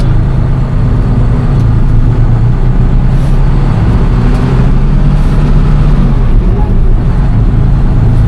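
A truck with little power steering rumbles steadily while reversing and turning, its engine a loud, continuous low drone with no breaks.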